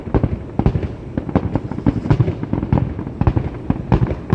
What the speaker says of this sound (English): The whole town is getting even louder and louder and louder and louder and louder as this firework goes.